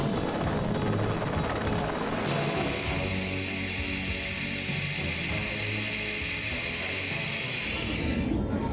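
A military multipurpose utility helicopter flies close by, its rotor and turbine making a loud, steady roar with a high whine running steadily throughout.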